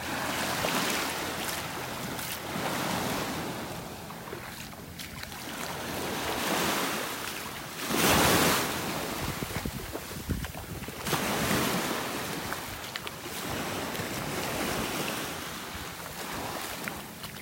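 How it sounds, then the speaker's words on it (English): Surf breaking far out over a sandbar along a North Naples, Florida beach, slow repeated swells of roaring wash mixed with wind buffeting the microphone, no talking. "Ooh, those waves are breaking way off."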